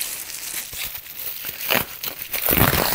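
Plastic and cardboard packaging around a Nightwish vinyl record is crinkled and torn open by hand, a close, busy rustling with louder crackling bursts toward the end.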